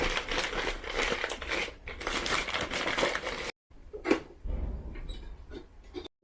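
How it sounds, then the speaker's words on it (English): Newspaper rubbed and crumpled against the glass chimney of a kerosene hurricane lantern, a close, continuous crinkling and scrubbing that stops briefly, then resumes in softer bursts. "You can wipe it off using a newspaper."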